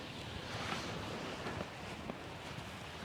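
Wind blows across an outdoor allotment garden, a steady, fairly faint broadband rush with gentle gusts and no talking.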